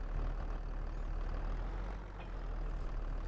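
A Valtra tractor engine in Farming Simulator 22 drones steadily with a deep, broad rumble, loud and close, dipping slightly midway then holding even, with no talking.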